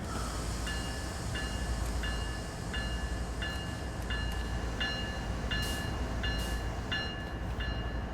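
A GE Gevo locomotive in Train Sim World 3 at Cajon Pass rumbles steadily at idle while its brakes are released, with a repeating high-pitched beeping tone every half second or so over the constant low drone.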